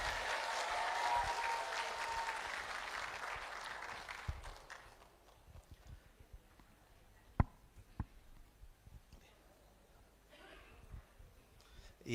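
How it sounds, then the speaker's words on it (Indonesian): Audience applause at an Indonesian talk show as a Buddhist monk comes onto the stage: dense, loud clapping for about four seconds, then fading into a quiet hall with a few scattered knocks and bumps. "Sekali lagi tepuk tangan meriah dong."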